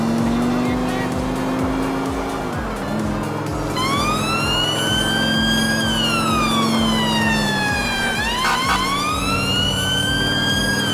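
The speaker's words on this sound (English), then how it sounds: "These sirens are so weird." Wailing police sirens from GTA 4 police vehicles on patrol rise and fall in sweeping electronic tones over a steady engine drone, loud and continuous with a brief dip before resuming.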